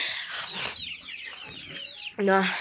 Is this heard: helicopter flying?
no